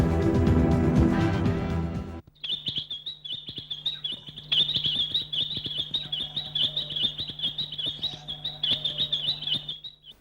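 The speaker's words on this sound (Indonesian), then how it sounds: "Ayo burung manis, diam dulu ya." A small songbird chirps in rapid repeated high tweets, close and fairly loud, after a short burst of music at the start, continuing steadily without speech.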